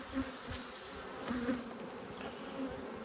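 Agitated honey bees buzz around an opened hive: a close, continuous drone that swells in brief louder passes as insects fly near.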